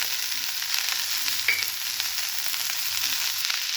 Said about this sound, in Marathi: आपण मिरची भाजून घेतलेली होती ती मी ठेचा टाकणार आहे